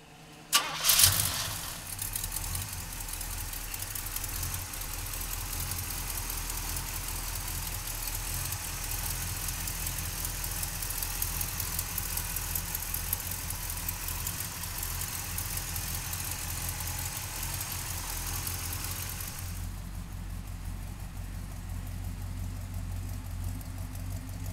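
A 1971 Oldsmobile Cutlass convertible with a 350 V8 cranks briefly and fires, then settles into a steady, rumbling idle that runs on for about twenty seconds, close and unaccompanied by speech.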